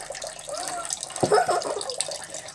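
Water flows out of a container in a simple home science experiment, a soft trickling and splashing with a brief gasp-like vocal sound over it.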